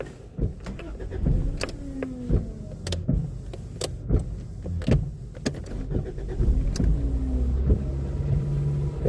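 A non-JDM car engine running after a fuel pump replacement, giving a low, uneven idle rumble under a string of sharp mechanical clicks and clunks close by, with no talk.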